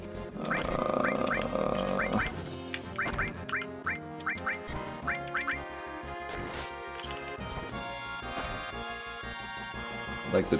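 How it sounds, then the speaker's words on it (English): Frog croaks ring out in the video game Final Fantasy VII, a string of short repeated croaking blips over busy game music and effects, steady and prominent in the mix. "I'd like to try to get rid of these frogs."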